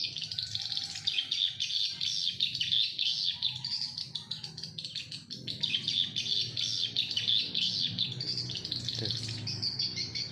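Small birds chirp and tweet in rapid, continuous bursts close by in the morning, a bright busy chatter with a short spoken sound near the start.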